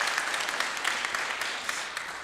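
Audience applause at a Pulaski Day celebration: a steady wash of clapping for about two seconds with scattered sharper claps, with no pauses and no voices on top.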